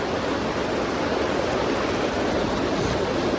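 A waterfall at Sitakund in heavy rainy weather gives a dense, unbroken roar of rushing water, loud and even from start to finish with no voices.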